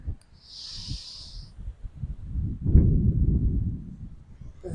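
Deep breathing during a yoga sun salutation: a soft inhale followed by a long, heavy, close exhale with a breathy rasp, and a brief high hiss near the start.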